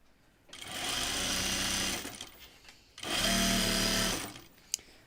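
A sewing machine stitches the side seam of a Kelly Anorak in two loud, sustained bursts of about one and a half seconds each, separated by a short pause, with a small click near the end.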